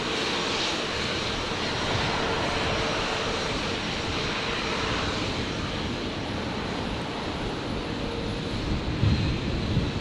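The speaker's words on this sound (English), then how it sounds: "So there's the Royal Flying Doctor Service, Beach King Air." A Royal Flying Doctor Service Beechcraft King Air runs its engines at Brisbane airport, a steady broad roar with low rumble and some wind buffeting, continuous and fairly distant throughout.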